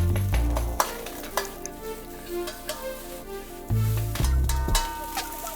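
Close sizzling in a wok with repeated scraping stirs and clanks as rice is stir-fried with whitebait and pickled vegetables, the spatula strikes coming in irregular bursts.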